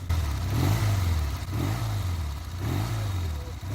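Triumph Bonneville T140 twin from the 1970s revving in repeated swells, the engine note rising and falling about three times, loud and close with a rough mechanical clatter underneath.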